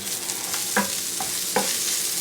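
Bacon pieces and spinach fry in bacon drippings in a pan, giving a close, steady sizzle broken by a few soft scraping stirs, with no voices.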